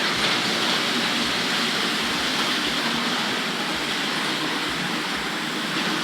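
A Tri-ang Hornby Class 29 model locomotive pulls Bowaters China Clay slurry wagons around the track, giving a dense, steady whirring rush with faint rhythmic clicks from the rail joints.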